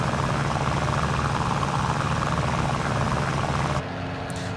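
A de Havilland Chipmunk's piston engine and propeller drone steadily from outside the aircraft in a flight simulator, loud and continuous, then drop abruptly to a quieter level near the end.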